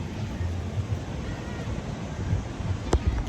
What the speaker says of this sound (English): We have waves.